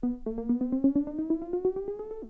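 A buzzy synthesizer tone pulsing in rapid rhythmic chops while its pitch glides steadily upward, then cuts off abruptly.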